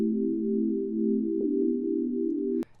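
An inverted chord from a synthesizer in FL Studio holds steady and low for over two seconds, a smooth sustained tone with a slight bump midway, then cuts off abruptly with a click.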